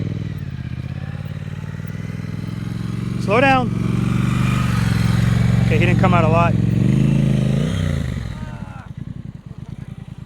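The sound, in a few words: motorcycle riding slow-speed practice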